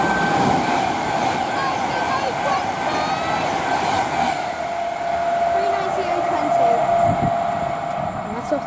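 A passenger train to Glasgow Central passes through Rugby station on the West Coast Main Line, a loud steady rumble with a sustained tonal whine and light rail clatter, while voices talk in the background.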